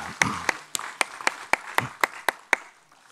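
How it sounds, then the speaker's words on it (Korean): A church congregation at a Wednesday worship service claps in unison, about ten sharp, evenly spaced claps in a steady rhythm, loud and close, with no talk over them. "성황의 박수를 올려드립니다"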